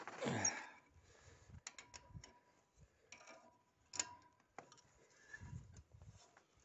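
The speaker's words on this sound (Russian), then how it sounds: "берем подходящий ключ нет, вот этой стороной одеваем и начинаем крутить затягивать" A wrench turning the bolt of a band fastener on a SIP cable line, giving a quiet run of irregular metallic clicks and ticks with short pauses between turns, close up and with no talking.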